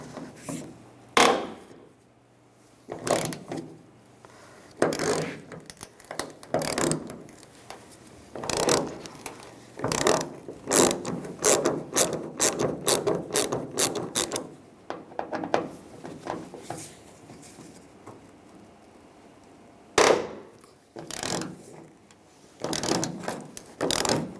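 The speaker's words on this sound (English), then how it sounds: "Using a T30 socket, take these 2 screws out" A ratchet with a T30 socket backs two screws out of the fuel filler neck on a 1999–2006 Chevrolet Silverado, with rapid clicking bursts, scraping and handling noises up close, no talking.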